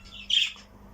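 A single sharp, high squawk from a female pet bird, brief and close, against a quiet background.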